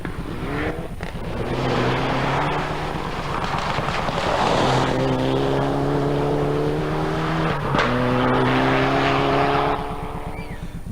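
Mitsubishi Lancer rally car, rebadged as a Proton, racing on an ice rally stage, its engine roaring loud and close with rising and falling revs and sharp gear changes throughout.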